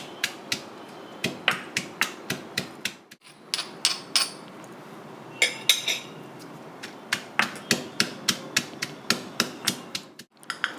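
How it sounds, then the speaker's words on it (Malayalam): Small onions are crushed with a pestle in sharp, rhythmic knocks, around two dozen close, crisp strikes in quick runs with a short pause midway, no talk. "നന്നായിട്ടൊന്ന് ചതച്ചെടുക്കാം"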